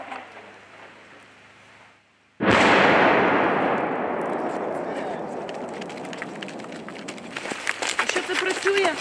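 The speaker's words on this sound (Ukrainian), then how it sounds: "Це артилерія? Ні, це міномет." A mortar round is fired on a battlefield: a sudden loud blast follows a quiet lull, then a long rumbling decay with outdoor noise and crackle fading over several seconds.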